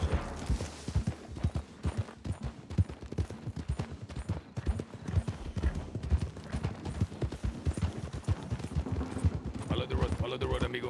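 Horse hooves clip-clop steadily in an open-world video game, a rhythmic trotting beat running the whole time at moderate volume, with occasional other game sounds mixed in.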